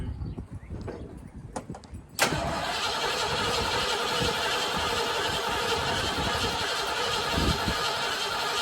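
An old car's engine cranks with a few uneven turns, then catches and runs in a steady, loud, rough drone that continues to the end.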